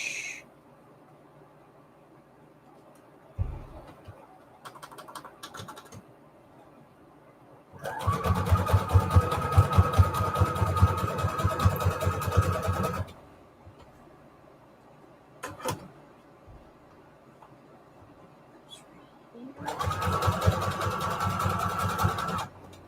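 Sewing machine zigzag stitching fabric scraps onto journal tags, running in two loud close bursts separated by quiet handling noises and brief clicks.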